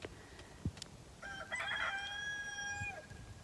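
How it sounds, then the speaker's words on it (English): A rooster crows once, a drawn-out call rising and then trailing away, heard faintly at a distance over a low background hum. "roosters."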